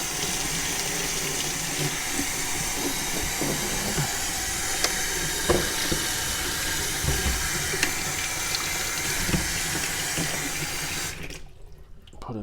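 A Fluval 307 canister filter impeller being rinsed under running water, a steady close splashing rush that goes on throughout and cuts off just before the end.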